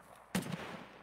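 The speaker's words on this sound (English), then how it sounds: "Oh, he's shooting at me." A single brief gunshot in the video game The Cycle, fairly faint and somewhat distant, with a short trailing echo.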